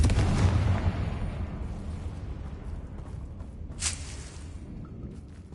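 Confringo explosive spell going off in Hogwarts Legacy, a rumbling blast that starts loud and rolls on with crackling, mechanical-sounding debris, plus a brief sharp burst midway, fairly close and without speech.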